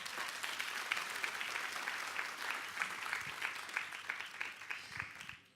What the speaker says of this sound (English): Can we give Atomy a round of applause?